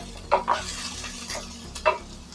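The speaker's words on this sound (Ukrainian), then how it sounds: "І знову починається смажитися." A vegetable sauté fries in a pan, a soft steady sizzle broken by a few sharp scraping stirs of a utensil against the pan, close by with no talking.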